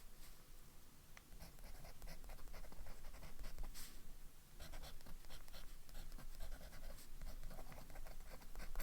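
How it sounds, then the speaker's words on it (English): A fountain pen nib inked with Diamine Inkvent ink scratches across paper, its nib reluctant to write, giving faint, close, dry strokes that come in quick repeated bursts with no voices. "I feel like this nib is not writing very well, or like I need to prime the feed."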